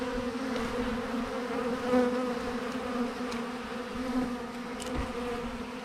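A steady, dense buzzing of many honeybees feeding close by, a continuous humming drone with no voices.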